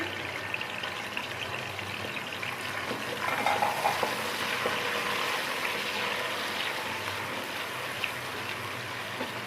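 Finely chopped onion fries with whole spices for beef pulao, making a constant soft hiss with light stirring that swells briefly partway through, close and without talk.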